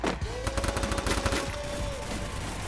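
Rapid bursts of M500 gunfire in the video game Free Fire, loud and close, a quick rhythmic string of shots over a steady game tone with no talk.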